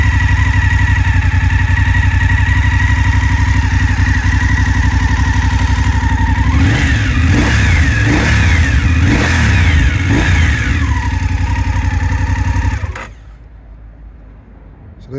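A 2019 BMW F850GS Sport motorcycle idles steadily up close, then its engine is blipped through several sharp revs before settling back and cutting off near the end; no talking.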